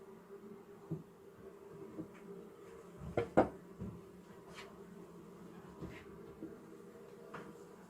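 Agitated honey bees buzz around an open hive during an inspection, a faint steady drone with a few louder close passes and some light knocks and scrapes of the hive equipment.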